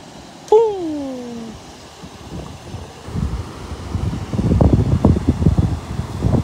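Gusty wind buffets the microphone with rising rumbling bursts beside a river, preceded by a brief tonal squeal near the start.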